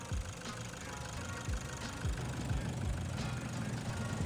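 A Toyota 1KD diesel engine fitted with a 47mm VNT turbo runs close by with a steady, loud mechanical rattle and knock. A low throbbing drone continues unbroken throughout.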